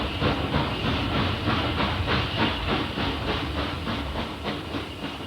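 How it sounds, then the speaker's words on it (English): A steam train on the line to Eastbourne, loud rhythmic chuffing bursts of hissing steam repeating at an even pace over a continuous rumble, heard up close. "Steam train to Eastbourne."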